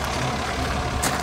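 A Nissan Navara 3-litre pickup tows a fifth-wheel camper, its engine a steady close diesel drone with a brief hissing burst near the end.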